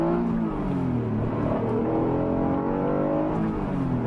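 Acura NSX engine accelerating hard from inside the cabin, a loud, rising mechanical roar with climbing harmonic tones that sweep upward steadily for several seconds without a break.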